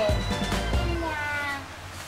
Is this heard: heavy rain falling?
no